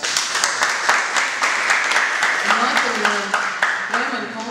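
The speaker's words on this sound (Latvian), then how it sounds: "šis fakts ir aplausu vērts" Applause at a press conference: a crowd claps steadily and fairly close throughout, with sharp individual claps standing out and a voice speaking over the clapping in the second half.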